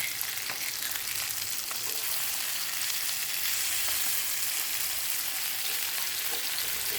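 Sardine fish frying in a pan, a steady loud crackling sizzle with dense popping spatter that holds evenly throughout, no voices over it.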